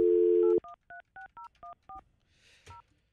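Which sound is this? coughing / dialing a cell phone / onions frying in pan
dialing a cell phone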